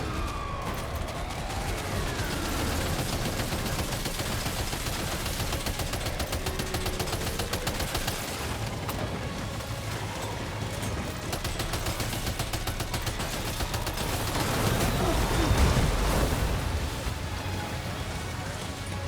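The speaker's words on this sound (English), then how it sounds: "Opening fire now." Gunfire in the video game Death Stranding 2 on a PS5 Pro, a dense busy mix of shots and bursts with siren-like tones and loud effects throughout, under game dialogue.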